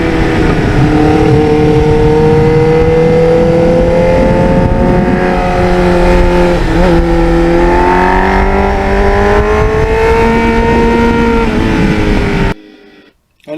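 A 1989 Kawasaki Ninja GPX750R on the move, its engine loud and close with a sustained drone that climbs and falls in pitch through the gears, cutting off abruptly near the end.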